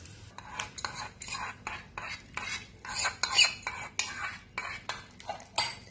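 Spoon stirring a hot cumin and green chili tempering into yogurt for potato raita, a steady run of repeated metallic scraping strokes against the bowl, close and fairly loud with no talking.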